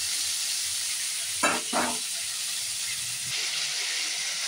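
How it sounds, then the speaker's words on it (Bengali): Potato and cauliflower frying in a pan with salt and turmeric give a steady high sizzle throughout, with two short bursts of louder stirring scrapes near the middle and no talking. "নুন হলুদ দিয়ে একটু ভেজে নিই।"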